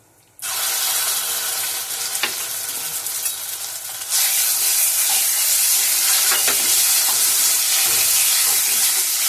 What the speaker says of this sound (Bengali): ফাটিয়ে রেখেছিলাম, দিয়ে দিলাম। এবার দিয়ে দেবো পোস্ত বাটাটা।